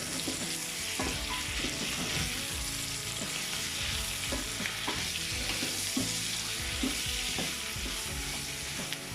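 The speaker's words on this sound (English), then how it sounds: "So I'm adding 1 small diced tomato. Give that a mix." Diced tomato for a lamb stew stirred into a hot pan, a steady dense sizzle and frying hiss with repeated scraping stir strokes throughout, loud and close with no talking.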